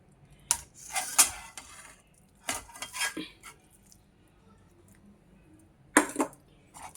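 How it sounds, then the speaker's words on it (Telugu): A spoon stirs coriander pickle together with cooled tempering oil in a bowl, making a few sharp, close metallic clinks and scrapes in separate bursts with quiet gaps between them. "ఇప్పుడు మనము ఇందులో కలిపేసుకోవాలండి."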